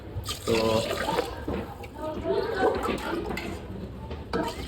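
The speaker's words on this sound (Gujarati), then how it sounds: "અત્યારે પાણીમાં એડ કરી રહ્યા છે આપણે" Water pours into rice in a pot while cooking fish biryani, a close gushing splash that swells and eases, with a person talking over it.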